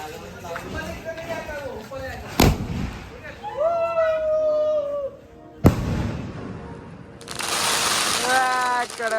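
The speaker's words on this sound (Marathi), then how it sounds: "फटाक्यांचा शॉट चालू आहे" Two sharp, loud firecracker bangs go off a few seconds apart amid a noisy Diwali crowd at a shop opening, with shouting voices and a burst of hissing crackle near the end.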